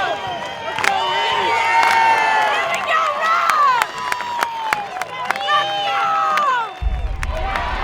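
A large stadium crowd at an Ole Miss softball game roars and cheers continuously, loud and close, with shouts and whistles rising over a dense wall of voices.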